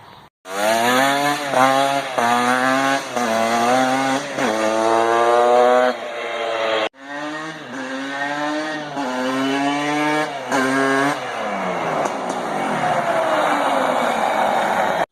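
Two-stroke engine of a Tecate three-wheeler with a DynoPort exhaust at full throttle, a loud close buzzing wail that rises through the gears in repeated revving sweeps, then backs off.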